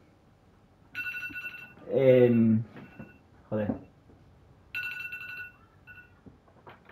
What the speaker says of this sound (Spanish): Tengo aquí la alarma del móvil.